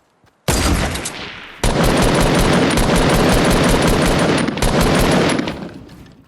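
Dense, loud rapid gunfire from a Fortnite battle, with SMG and drum gun bursts rattling almost continuously for about five seconds after a brief gap, with no talk over it.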